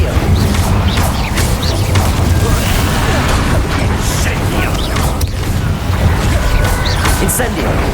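Incendio fire spells go off in Hogwarts Legacy as loud, dense bursts of crackling, mechanical rumbling and crashing. The sound stays constant throughout, with combat effects layered over one another.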